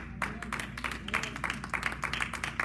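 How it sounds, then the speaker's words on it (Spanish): Church congregation applauding, a dense, steady burst of many hands clapping with scattered sharper claps, fairly close and loud throughout. "¿Cuántos le dan un aplauso al Señor?"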